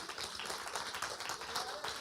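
A church congregation claps during a family worship service, producing faint, steady, continuous applause heard from a distance throughout.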